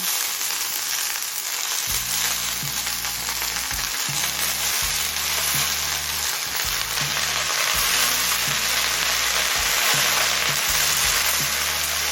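Broccoli leaves fry in a pan with a steady, loud sizzle, broken by low thumps and scraping as they are stirred, close up and continuous with no voices.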